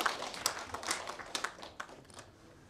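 Small audience at a folk song contest award ceremony clapping in a sparse, scattered burst of separate hand claps that thins out and fades over a few seconds, moderately close and with no voices over it.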